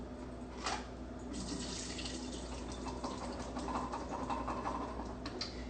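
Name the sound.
draining and rinsing canned chickpeas under the tap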